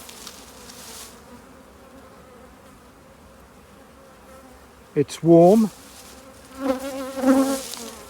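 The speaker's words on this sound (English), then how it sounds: "These colonies are pretty powerful in terms of the number of bees." Soft hum of many honeybees buzzing around strong colonies' hives, with ivy in bloom, a few louder close passes near the end and a brief spoken remark partway through.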